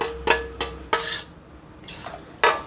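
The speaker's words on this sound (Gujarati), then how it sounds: "હવે ધીમે રહીને હળવા હાથે મિક્સ કરી લઈશું." A spoon knocking against a pan while fried paneer is folded into gravy, giving several distinct clinks and scrapes spaced irregularly, close and fairly quiet.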